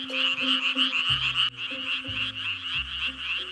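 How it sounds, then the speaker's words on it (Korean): A chorus of frogs croaking loudly and continuously in a forest, dense rhythmic calls overlapping with deeper pulsing croaks joining partway, no voices. "개구리들의 이 멋진 울음을 언제까지 들을 수 있을지 모르겠습니다."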